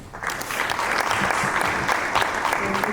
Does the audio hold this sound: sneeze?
no